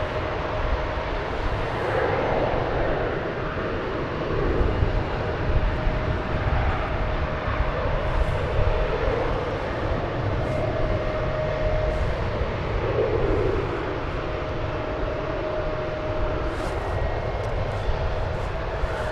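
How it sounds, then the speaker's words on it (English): An airliner in retro livery taking off at DFW Airport, its engines a sustained broad roar with a faint steady whine. The sound holds at moderate loudness across the whole stretch without fading away. "we'll for sure get you that that retro livery taking off"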